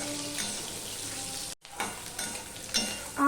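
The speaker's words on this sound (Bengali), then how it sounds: "এবারে দেখো আমি সিদ্ধ করে কেটে রাখা আলুগুলো আমি ভেজে নেব" Boiled, cut potatoes frying in oil, a close, continuous sizzle broken by a brief silent gap and a few stirring scrapes and clatters.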